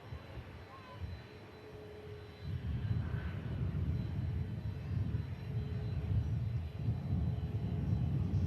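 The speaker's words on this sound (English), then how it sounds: "A few biz jets moving around at the moment here in Manchester." Business jets taxi around Manchester Airport, heard as a distant low engine rumble that swells and holds steady, with faint talk at times.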